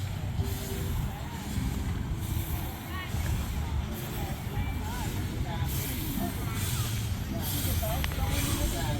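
A steam engine at the Scott-Carver Threshers Harvest Festival gives off a continuous broad hiss with a rumbling low end, while people talk nearby over the outdoor crowd noise.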